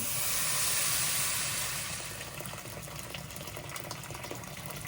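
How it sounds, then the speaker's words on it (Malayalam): Water pours into rice in a cooking pot for chicken biryani, a loud rushing splash that eases after a couple of seconds into a steady bubbling hiss. "അരി ഇതിനുള്ള വെള്ളം ഒഴിച്ചു കൊടുക്കാം"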